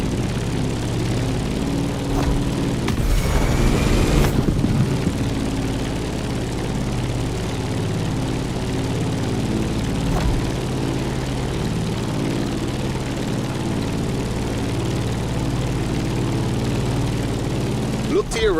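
In The Crew Motorfest, a propeller aircraft engine drones steadily as the plane climbs, a loud continuous hum with a brief swell of extra noise early on, under occasional talk.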